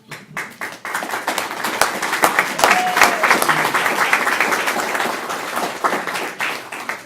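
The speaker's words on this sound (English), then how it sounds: "Big applause to our food wrangler." Applause at a club open house meeting thanking the member who handled the food, starting as a few scattered claps that quickly swell into a full round of hands, then holding steady and easing slightly near the end.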